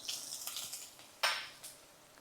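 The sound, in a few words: boiled potato and turmeric frying in hot oil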